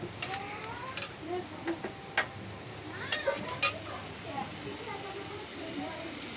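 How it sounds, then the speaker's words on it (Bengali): Tomatoes stirred and sautéed in a pan with a little water while cooking an egg curry, giving soft sizzling and scattered scraping, tapping stir strokes at an irregular pace, close and moderately quiet. "তো টমেটোটা আমি এর মধ্যে দেবো। টমেটোটা ভালো করে কষাবেন যতক্ষণ টমেটোটা গলে যাচ্ছে।"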